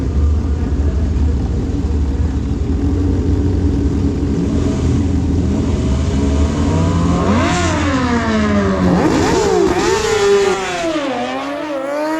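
Motorcycles launching down a drag strip at Maui Raceway Park, a motorcycle bracket race, one bike on each lane; a steady engine roar climbs through rising gear-change sweeps, loud and close, then eases off near the end.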